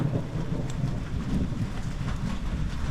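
Heavy rain falls with thunder rumbling underneath, a dense, steady wash of noise that stays loud and unbroken throughout, with no voices.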